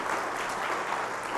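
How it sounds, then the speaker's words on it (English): Church congregation applauding during a Sunday service, a steady wash of many hands clapping at moderate loudness, continuous and without voices. "Let's give them a huge round of applause."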